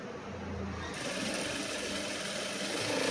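A sewing machine stitching a cross-cut blouse dart runs in a steady, fast mechanical whir, close and continuous, getting slightly louder toward the end.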